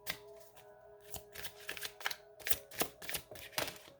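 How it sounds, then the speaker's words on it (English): A mixed deck of astrology and oracle cards being shuffled, with rapid riffling bursts and soft flicks repeating close by and fairly quiet, with no talk. "My own little concoction of cards that I've mixed."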